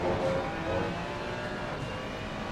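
Several GT3 race cars, a Ferrari chasing a Porsche, roar steadily in a sim racing game at Barcelona, loud continuous engine drone with slight revving swells and no voices.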